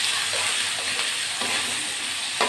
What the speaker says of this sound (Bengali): আমি রসুনটা আগে একটু ভাজি ভাজি করে নিই আলুর সঙ্গে।